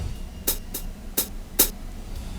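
Pedal hi-hat sample played in a Polyphone soundfont: four short, slightly heavy chick hits in an uneven rhythm, crisp and close over faint background hiss.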